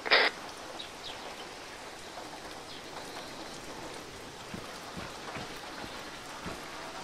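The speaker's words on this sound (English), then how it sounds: "Great, it's raining." Steady rain falls in the ARMA 3 video game, a continuous even hiss of drops with faint scattered ticks, heard alone at a moderate level after a brief sharp burst at the start.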